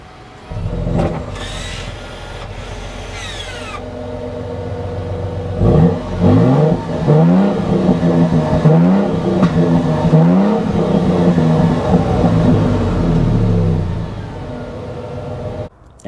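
A 2023 Toyota Tundra TRD Pro with a 3.5 liter V6 and cat-back exhaust is revved close by, with a short early burst followed by repeated rising and falling snarling revs before settling back to idle.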